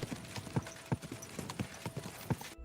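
Horse hooves clip-clop at a steady trot in the video game Kingdom Come: Deliverance II, a rhythmic run of soft, fairly quiet beats that ends abruptly.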